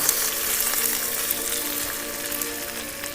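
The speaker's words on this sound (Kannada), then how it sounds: "ಎಣ್ಣೆ ಚೆನ್ನಾಗಿ ಕಾದಿತ್ತು, ಸಾಸಿವೆ ಚೆನ್ನಾಗಿ ಸಿಡೀತಿದೆ" Mustard seeds splutter in hot oil for a sambar tempering, giving a dense, steady crackling sizzle with scattered sharp pops, close and continuous, with no talk.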